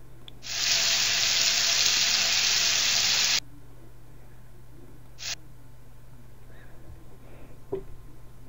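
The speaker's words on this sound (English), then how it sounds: "Thoroughly rinse the patient's hair" Steady rush of running water rinsing a patient's hair in the video game Surgery Squad, a loud broadband hiss for about three seconds that stops abruptly, followed by a brief splash and quiet.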